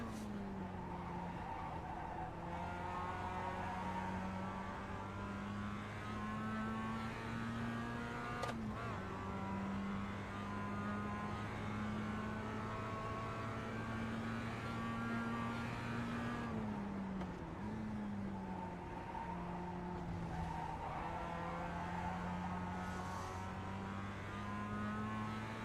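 A race car in the iRacing sim roars steadily through the whole stretch, engine pitch dipping and climbing through gear changes, with tires skidding and squealing at times, loud and continuous with no talk.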